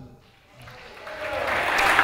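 Audience applause for a band member at a live band show, starting faint and swelling steadily into a fuller, louder burst of clapping by the end.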